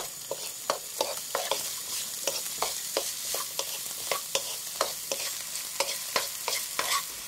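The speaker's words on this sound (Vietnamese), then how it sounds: "Cho hết lạp xưởng, xúc xích và cà rốt vào." Chinese sausage, sausage and carrot stir-fried in a reused pan, a steady sizzle with rhythmic scraping of a spatula against the pan, close and without voices.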